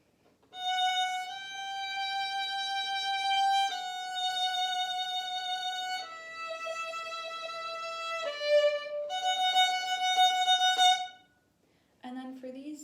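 Solo violin playing a Vivaldi tutti passage, a quarter-note pickup into a sustained whole note followed by connected bowed notes, clear and close, with a brief voice at the very end.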